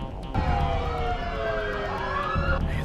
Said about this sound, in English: I hear the fucking sirens.